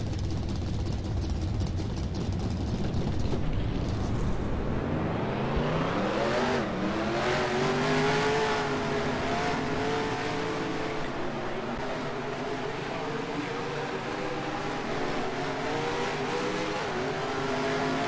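Several race car engines in the NASCAR Racing 2003 game roar loudly together at the start, their pitch rising as they accelerate and settling into a steady, continuous drone with no talking over it.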